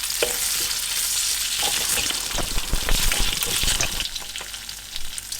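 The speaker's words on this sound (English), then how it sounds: "the fat is already starting to render out" Beef fat renders over low heat in a pan, sizzling and crackling steadily and close up, with a few soft stirring scrapes and no voices.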